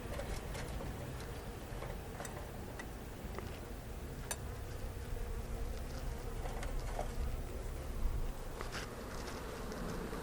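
Honey bees hum steadily around an open hive during an inspection of the honey super and brood box, a dense continuous buzz with faint clicks and ticks scattered through it.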